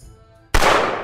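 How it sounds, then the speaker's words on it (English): A single loud, sharp gunshot bursts out of near silence in a VR Chat Russian roulette game, then trails off in a brief reverberant tail. "Bang bang shooting"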